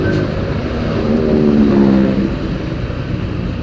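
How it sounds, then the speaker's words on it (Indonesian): Steady road traffic building toward a jam on a Lamongan–Gresik highway, heard from a 2015 Honda Vario 125 motorcycle: a continuous loud rumble of engines and tyres with a low hum rising mid-clip, no talking. "Waduh, mulai macet ternyata."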